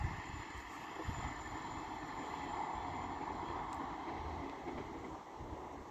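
Class 158 diesel multiple units 158786 and 158781 pass through Castleton station as a steady, continuous rumble of wheels and engine, fairly loud and unbroken throughout, with a wind-like hiss layered over it.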